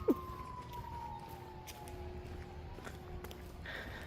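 Distant siren wails steadily with a slowly falling pitch throughout, heard from outdoors on a nature walk, with faint footsteps and rustling nearby.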